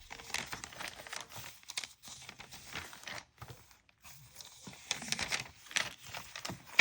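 Collage paper in an art journal being unfolded gives soft, close crinkles and papery rustles in uneven bursts with brief pauses, quiet and unaccompanied by speech.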